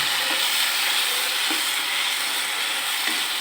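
Chicken tipped into a sauce in a pan for chicken macaroni, a steady sizzle with faint scraping stirs at regular intervals and no voices.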